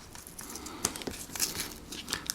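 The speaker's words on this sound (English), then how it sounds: "This one comes with a little baggie. And let's see if I can remove the sticker." A sticker being peeled off a small plastic baggie holding a Game Boy Advance game, heard close up as crinkling plastic with several sharp crackly pulls and rustles.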